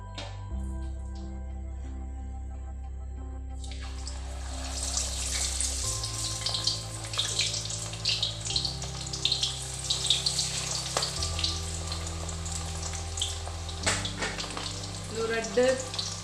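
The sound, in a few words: fish frying in hot oil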